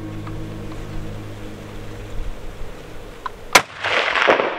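Rifle shot on a blacktail deer hunt in Oregon: after quiet outdoor ambience, a single sharp, loud crack rings out, followed by a rustling, rushing burst of noise.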